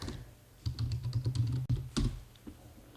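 A computer keyboard clacks in a quick run of keystrokes followed by a few slower taps, close and moderately quiet over light room noise.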